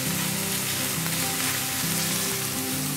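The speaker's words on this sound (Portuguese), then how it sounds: "E aqui a linguiça já tá refogando com o pimentão." Sausage and bell pepper sauté in plenty of olive oil in a pan, giving a loud, continuous sizzle and crackle that fills the whole stretch with no talking.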